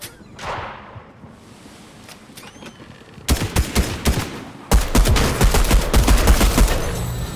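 Pistol gunfire in Fortnite: after a quieter stretch with a few scattered shots and pings, loud rapid bursts of shots start up close and keep going in quick repeated volleys.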